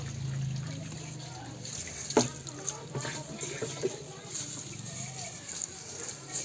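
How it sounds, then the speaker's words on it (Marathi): Water runs steadily from a tap into a metal pot, a low continuous trickle with voices murmuring nearby and a brief clank partway through. "बाबा पाणी सोडले कळशी"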